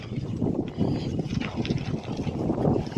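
Strong sea wind buffeting the microphone with a continuous low rumble and gusty roar, close and loud throughout the short stretch.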